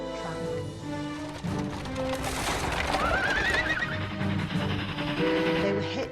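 Horse neighing and whinnying with hoof clip-clop, the sound of a horse-drawn carriage, steady and fairly close, with faint voices mixed in.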